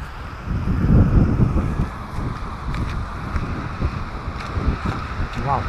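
Strong wind roars over the microphone by Tinipak River in Tanay, Rizal, a continuous loud rushing with a brief gust peak early on, with faint voices underneath.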